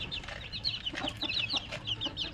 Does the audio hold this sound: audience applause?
no